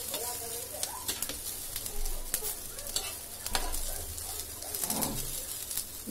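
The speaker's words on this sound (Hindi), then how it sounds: "और इसे अच्छे से भूनने देंगे नीचे से" Moong dal cutlets fry in a pan with a steady, close sizzle, broken by scraping and clinking as they are turned, while a dove coos faintly in the background.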